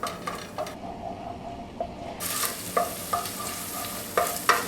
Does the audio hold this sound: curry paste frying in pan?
yes